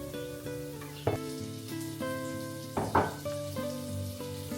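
Scrambled eggs and bacon sizzle in a cast iron pan under steady tonal music, with a couple of sharper clinks from stirring or handling.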